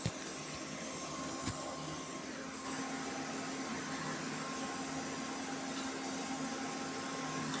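A mixer grinder runs steadily, grinding horse gram with onion and curry leaves into chutney, a continuous close motor whine with a brief clunk near the start and no talk.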